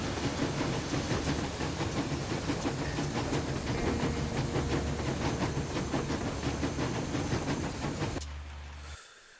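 A train rolls on rails in the video game Metro Exodus, a steady loud rumble with rhythmic clacks and hiss that runs continuously, then drops away abruptly near the end.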